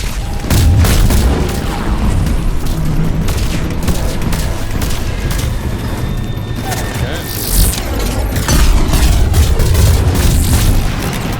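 Explosion in the Mass Effect 3 video game, a heavy booming blast amid continuous loud gunfire and combat noise that stays dense throughout, with a voice talking over it.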